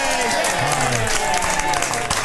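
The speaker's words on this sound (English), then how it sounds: "Round of applause for Dave." Applause from a live audience at a radio quiz evening fills the brief moment, dense clapping running throughout beneath overlapping voices.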